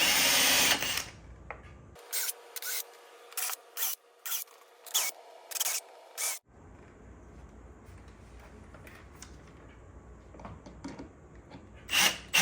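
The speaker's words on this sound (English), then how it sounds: "we're going to drill pilot holes and install the hinges" A power drill bores pilot holes for interior door hinges in close, loud bursts, about eight short whirs in a row, followed by quieter workshop background noise.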